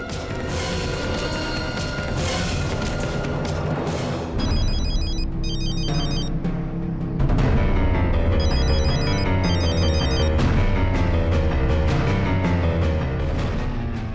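A phone rings repeatedly in short electronic bursts over loud, dramatic background music with heavy low thumps.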